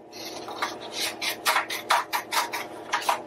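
Scissors snip paper into inch-wide strips for a paper frog craft: a quick run of crisp, rasping cuts in an uneven rhythm, close and fairly quiet, with no talking.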